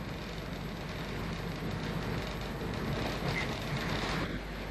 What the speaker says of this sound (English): This is the view from the front of a Great Northern rail car, slowing for the stop at Raheny Station